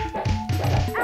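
Short electronic dog barks and yips from the SNES game Pirates of Dark Water, a few quick chiptune-style bursts in a row, loud and close over steady game music.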